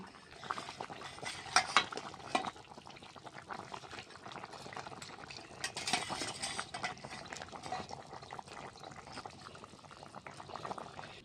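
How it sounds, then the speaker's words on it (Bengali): Fried fish goes into a simmering Bengali fish curry with vegetables and ground spice paste, giving a soft, steady bubbling and liquid sizzle with a few brief clinks and stirring splashes, close by and fairly quiet, no talk. "এবার আমি ভেজে রাখা মাছটা দিয়ে দিচ্ছি"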